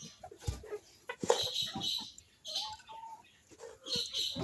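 Brooding hen sitting on about five eggs in a separate nest box of a coop, giving soft, irregular clucks and chirpy calls close by amid light rustling, with no talk.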